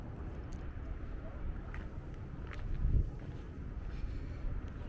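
Wind buffets the microphone in gusty, low rumbling bursts while climbing beside the granite unfinished obelisk, with a stronger gust near the middle of the clip.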